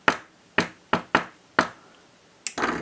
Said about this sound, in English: See if I can get the same knock again.